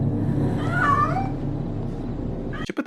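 A cat meows inside a microwave in a film scene, one drawn-out plaintive cry over a steady low hum, followed by a short clatter at the end.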